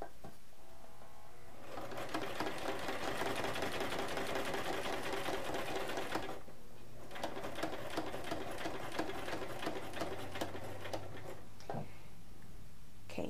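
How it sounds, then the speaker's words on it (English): Sewing machine stitching the seam of a card holder, a steady rapid mechanical whirr running in two long bursts with a brief pause between them, close and fairly quiet. "start sewing around"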